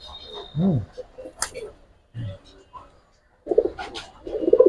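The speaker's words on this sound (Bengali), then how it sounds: "একবারে বড় শেপের কবুতর" Large-bodied Kaldom pigeons coo up close in several short, loud throaty bursts separated by brief quiet gaps, with a thicker run of cooing at the end.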